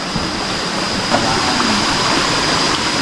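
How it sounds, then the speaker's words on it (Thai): A waterfall in a valley gives a constant broadband rush of falling water, loud and steady with no pauses. "มันเป็นน้ำตกอีกแล้ว"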